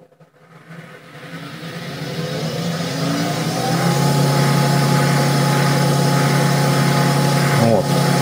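A 400-watt brushless allsome BG 516809 drill press motor spins up to 2500 rpm with its chuck removed, a quiet hum that rises smoothly and then holds a steady tone.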